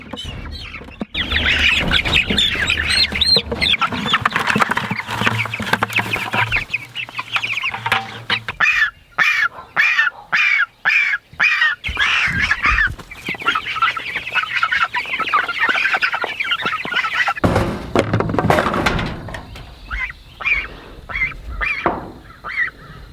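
Farmyard fowl calling: repeated honks and clucks from geese and chickens, fairly close, overlapping and continuous, with a sharp burst of rapid calls midway.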